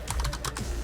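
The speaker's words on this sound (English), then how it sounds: "I'm typing Tifa and just hitting enter" Typing on a computer keyboard: a quick run of close, crisp key clicks in an irregular rhythm, heard alone without talk.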